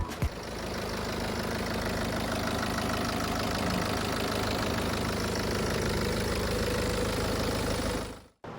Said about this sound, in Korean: 마지막으로 엔진 사운드 듣고 마무리할 수 있도록 하겠습니다.